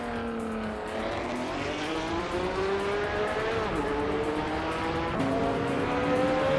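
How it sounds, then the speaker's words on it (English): A 1973 Porsche 917/30 Spyder race car engine drones steadily in a video game race, its pitch climbing through gear shifts with a constant loud roar and no voices. "Amy is leading the race in a 1973 Porsche 91730 Spider."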